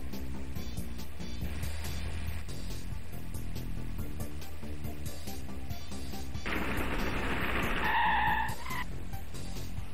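In a racing video game, a VAZ-2101 car's engine drones steadily until a loud, rough tire skid bursts in during a handbrake turn, lasting a couple of seconds before easing off.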